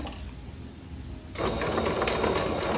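A sewing machine back stitching on leggings fabric starts abruptly after a quiet lull, then runs in a steady, fast, close whir to the end.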